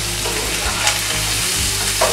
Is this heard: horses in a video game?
no